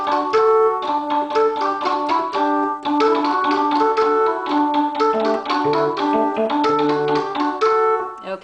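A Sequential Circuits Six-Trak synthesizer plays two layered sequence tracks, bright plucky notes stepping in a quick steady pattern with a lower line weaving underneath, loud and clean with no talk.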